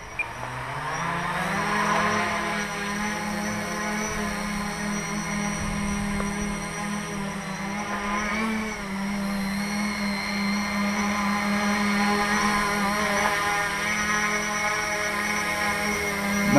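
A cheap multirotor drone motor runs at hover throttle on a test bench, giving a steady, even electric whine with a low buzzing hum that holds constant throughout, close and with no talking.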